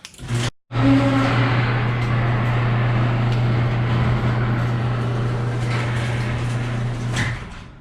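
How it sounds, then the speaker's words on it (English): A motorized garage door runs closing with a steady mechanical hum and rumble for several seconds, starting abruptly after a brief gap and stopping near the end. "the garage door was shutting"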